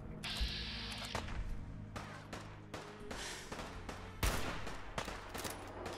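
Gunfire in Fallout 4, a string of rapid cracking shots in uneven bursts, some close and sharp, others more distant, over a steady low game hum.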